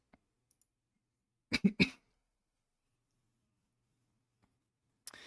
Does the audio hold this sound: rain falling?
no